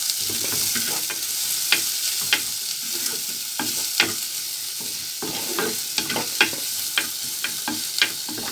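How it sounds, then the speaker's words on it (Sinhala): Chopped red onions frying in a pan for a Sri Lankan egg curry, a loud, close sizzle punctuated by a quick series of sharp spatula scrapes and taps while stirring, with no voices. "කපාගත්ත රතු ලුණු ටික දාගන්න. මේ ටිකත් හොඳට කලවම් කරගන්න."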